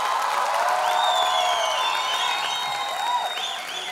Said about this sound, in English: one huge round of applause for the living legend Shamak Davar